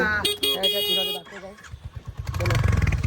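A motorcycle engine revs and idles nearby in cold weather in Manali, its low throbbing growing steadier toward the end, with music and a voice over it at the start.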